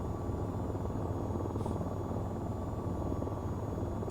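Helicopter rotors in the flight game VTOL VR drone as a steady, loud, continuous whir with a dense low throb, alone with no voices, holding even throughout.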